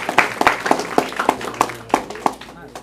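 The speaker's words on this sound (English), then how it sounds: "Let's give them a round of applause for putting that together." Audience applause at a school district board of trustees meeting: a short burst of scattered, fairly close hand claps with a few distinct loud slaps, fading toward the end.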